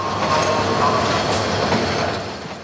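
A train rumbles steadily through Kamalapur railway station in Dhaka, wheels clattering on the rails in a loud, continuous roar that eases slightly toward the end.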